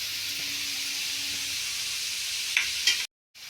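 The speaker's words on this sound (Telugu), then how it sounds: "ఇది వేసుకున్న తర్వాత బాగా అడుగు మాడకుండా బాగా వేగాలండి" Carrot rice frying and being stirred in a pan, with a steady loud sizzle, a couple of brief scraping stirs near the end, then a short cut to silence.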